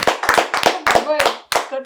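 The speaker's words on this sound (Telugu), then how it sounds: "క్లాప్స్ కొట్టండి రా." Hand claps from family members during a lively home interview with a young girl, a few quick sharp claps mixed in among overlapping chatter and laughter up close.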